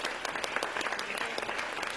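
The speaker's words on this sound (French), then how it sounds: "que on puisse les applaudir aussi" Audience applause at the inaugural round-table of an exhibition in France, a steady dense patter of many hands clapping throughout, moderately loud and without talk over it.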